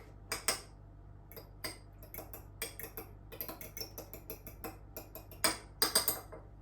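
A fork rapidly beating an egg yolk in a small dish for a pumpkin galette, giving close, irregular metallic clicks and taps against the bowl in quick bursts, with no talk.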